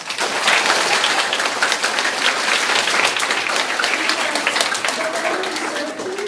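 A school audience at a Take a Veteran to School Day event breaks into sustained applause, dense, even clapping from many hands that holds steady and tapers slightly toward the end.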